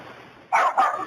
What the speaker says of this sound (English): They're heard again over the sound of barking dogs.